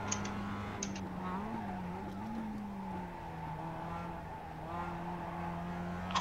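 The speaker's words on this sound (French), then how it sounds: "J'ai fait déraper à l'accélération." Race car tires skidding and squealing under acceleration in the sim racing game iRacing at Suzuka, a steady engine drone with a wavering squeal line over it and faint sharp clicks at the edges.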